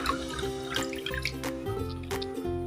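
Salted food being washed and squeezed by hand in a bowl of water, giving close, soft sloshing, dripping and wet squelching with a faint steady hum underneath and no speech.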